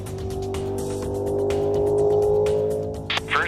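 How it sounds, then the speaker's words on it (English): Mero Special land speed race car driven by Bobby Moore on the Bonneville salt flats speed course, a steady high-pitched engine roar at full speed with a sharp burst of noise near the end and no talking. "On course 1, Bobby Moore driving the Mero Special."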